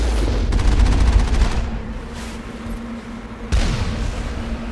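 Rapid pistol fire in the video game Mass Effect, a fast stream of shots up front, then quieter pauses and another loud burst near the end.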